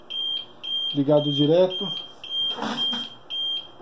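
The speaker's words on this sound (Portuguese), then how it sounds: "os bips de rede" An APC RS1200 UPS loses mains power and beeps in a steady series of short, evenly spaced, high-pitched tones, while someone speaks over the beeping at close range.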